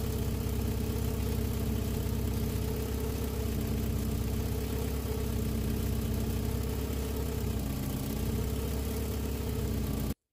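A warm Mk2 VW Golf GTI 16v engine idles steadily, a continuous, fairly loud mid-low rumble with an even pulse and no speech over it, cutting off abruptly at the end.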